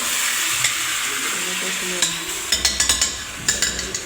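Meat fries in a pan as onion is added and stirred in, a strong close sizzle broken by a quick run of scraping clacks from the spoon toward the end.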